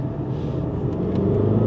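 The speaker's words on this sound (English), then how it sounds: "it's a cracking engine, this. Lovely and punchy. It's exactly what you want from a diesel." A VW Golf GTD diesel with 120,000 miles pulls away from a junction, a steady low rumbling engine drone heard from inside the car, building slightly in loudness over nearly two seconds with no voices.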